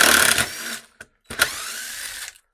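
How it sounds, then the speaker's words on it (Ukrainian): A DeWalt impact driver with its clutch switched off drives a screw in two close, loud bursts of whirring, hammering tool noise separated by a short pause. "коли ми крутимо е, із виключеною муфтою, цей шуруп просто вкручується."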